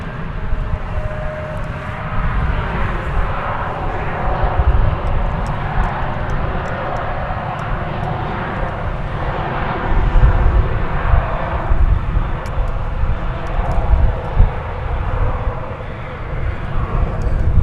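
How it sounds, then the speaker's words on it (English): An airliner takes off at DFW Airport, its engines a broad, steady roar building slightly toward the end, with faint voices in the background. "This aircraft is off to El Paso, Texas."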